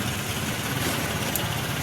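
A carbureted Honda Vario 110 scooter engine idling up close, a steady, even mechanical hum with a faint rattle, continuous and unbroken.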